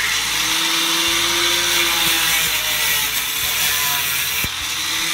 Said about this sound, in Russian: Отмеряем 7. Раз, два, три, четыре, пять, шесть, семь. И начинаем пилить.